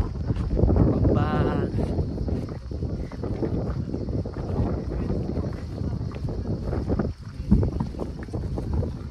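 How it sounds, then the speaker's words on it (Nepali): Strong wind buffets the microphone on a hilltop hike at Farping Dada, a constant roaring rumble with gusts, while people talk underneath. "हावा चाहिँ सही आउँदो रहेछ"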